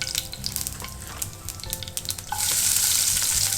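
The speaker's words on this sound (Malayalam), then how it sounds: "ഞാൻ ഇവിടെ ഒരു പാൻ വെച്ച് അതിലേക്ക് വെളിച്ചെണ്ണ ഒഴിച്ച് കടുക് പൊട്ടിച്ചെടുത്തിട്ടുണ്ട്." Mustard seeds and fennel seeds fry in coconut oil in a pan, crackling and sizzling close by with a few stirring clinks before the hiss swells into a steady, louder sizzle.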